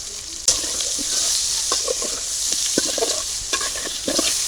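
Thick round potato slices with salt sizzle and fry in a pan in a village kitchen as a spoon stirs them, giving scraping clatters over a constant hiss, with one sharp knock early on.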